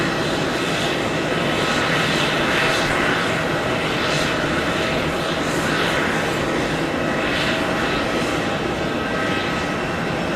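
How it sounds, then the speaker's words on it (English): A JetBlue Airbus A320 pushing back at John F. Kennedy International gives off a constant, loud engine roar and whine with gently pulsing hiss, unbroken across the whole stretch. "JetBlue A320 pushing back right now."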